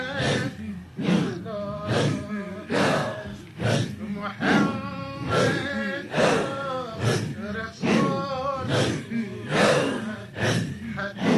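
Rhythmic, controlled breathing during a Sufi zikr in Afghanistan: forceful group exhalations pulse steadily, about one per second, with voices blending into the repeated breaths.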